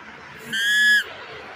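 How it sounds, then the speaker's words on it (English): A person lets out one short, loud, high-pitched scream lasting about half a second, piercing and tonal against quiet outdoor background. "Did I scream almost loud and clear?"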